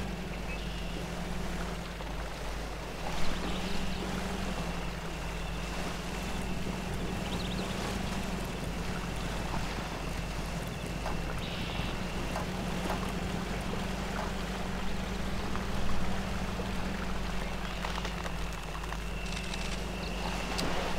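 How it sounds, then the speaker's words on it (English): A truck churns through water in the video game Spintires MudRunner, giving a continuous low engine drone mixed with sloshing and splashing at a moderate, even level. "I shouldn't be driving in the water."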